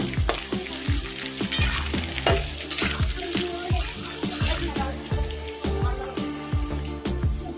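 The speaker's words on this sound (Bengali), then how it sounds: "আলু পেঁয়াজটা আমি ভালো করে ভেজে নিয়েছি এর মধ্যে দেব কুচিয়ে রাখা টমেটো এটাকেও ভালো করে মিশিয়ে নেবো" Chopped tomato stirred into fried potato and onion in a pan, with rhythmic scraping strokes of a spoon against the pan repeating throughout over a steady sizzle, close and moderately loud.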